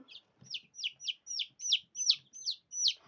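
Chicks peep in a rapid run of about nine bright, rising calls, growing louder toward the end, with faint low clucks and rustling from hens underneath.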